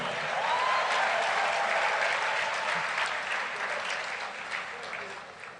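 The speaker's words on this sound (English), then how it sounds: "Big round of applause for you." A large crowd of over two thousand people applauds at a talk event, dense continuous clapping that stays loud and steady before slowly easing off.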